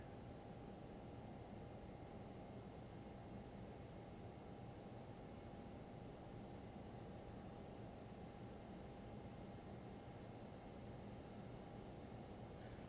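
Learjet 35 jet engine spooling up in a flight simulator, a steady broadband roar with a fixed whine held at an even level throughout, alone with no talk.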